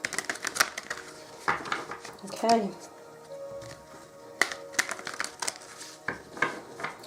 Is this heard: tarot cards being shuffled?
yes